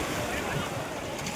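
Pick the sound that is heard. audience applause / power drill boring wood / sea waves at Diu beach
sea waves at Diu beach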